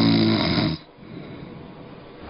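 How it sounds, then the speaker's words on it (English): A man snores loudly, one deep rattling inhaled snore that cuts off abruptly, followed by quieter breathing and room noise. "Snoring, snoring, always snoring. It is so loud and annoying."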